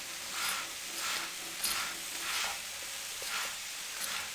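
Corn roti frying in ghee on a hot griddle, a steady soft sizzle with gentle rhythmic swells, close and alone without talk.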